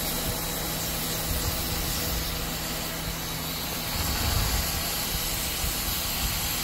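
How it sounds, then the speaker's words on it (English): A Shark steam mop under repair hisses continuously, releasing steam along with large water droplets as a steady, close broadband rush with faint low hum beneath. "I got steam coming out."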